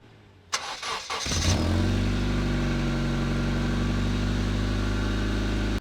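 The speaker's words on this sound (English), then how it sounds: "his 2000 Honda Civic with the automatic gearbox has got a blowing exhaust" A 2000 Honda Civic automatic with a blowing exhaust cranks over with a few uneven bursts, catches, and settles into a steady, close, rumbling idle that holds evenly until it stops suddenly.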